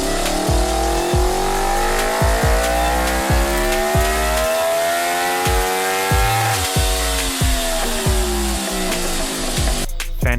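A Honda RC30 V4 motorcycle engine revs hard and close, climbing through repeated rising pulls with sharp shifts between them, loud and continuous.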